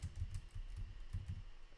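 Quiet, fairly close typing on a computer keyboard, a run of soft irregular key clicks in small bursts with brief pauses.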